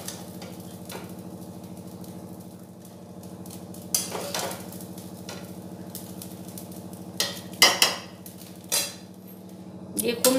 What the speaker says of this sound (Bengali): দিয়ে খুব ভালোভাবে নাড়াচাড়া করে মিশিয়ে নেব।